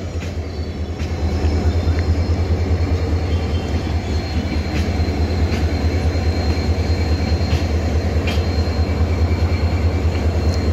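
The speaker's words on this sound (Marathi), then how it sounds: "तर आज आपल्याला घेऊन जाणारे हे कल्याण डिव्हिजनचे इंजिन आहे" A WDP-4D diesel locomotive of Kalyan division rumbles with a loud, steady low engine drone, constant and close throughout, with faint metallic ticks above it and no talk.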